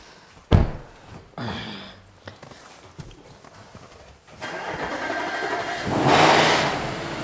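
An Audi RS4 B8 or RS6 C7 starts with a sharp burst, settles, then revs in two rising surges near the end, with thumps and shuffling in between and no speech.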